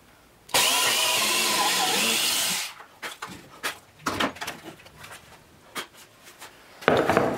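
Power drill boring through a wood workpiece with a larger bit, following a brad-point pilot hole for a bandsaw segmenting sled: a loud, steady whine for about two seconds, then stops, followed by scattered handling knocks and a brief final burst.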